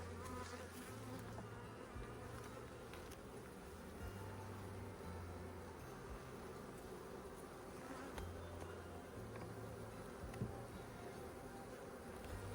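Honey bees hum and buzz steadily from an opened hive during a mite check, a dense, continuous drone up close with faint handling noises and no talking.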